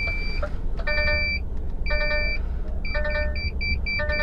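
Vehicle parking sensor beeping because a fence is close by: repeated bursts of rapid high electronic beeps, in groups, over a steady low engine rumble, fairly loud.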